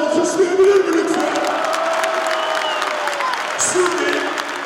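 Audience at a football-themed stage show erupts in sustained applause mixed with cheering and whoops, a loud, dense crowd sound throughout.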